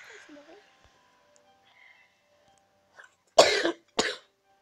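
Two sharp, loud coughs in quick succession from a sick person playing Snake.io, after a mostly quiet stretch with faint background sounds.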